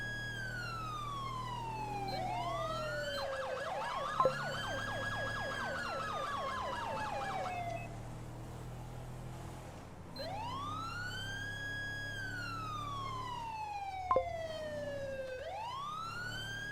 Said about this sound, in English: We'll get our siren back on.